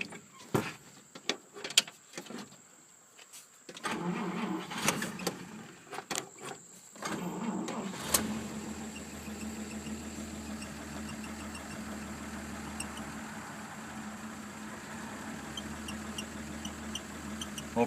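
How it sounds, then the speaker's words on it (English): A 1949 Chevrolet Deluxe four-door engine is cranked with a few clicks and bursts, then catches and settles into a steady, close idle with a low constant hum. "Let me fire this thing up and let you hear it run."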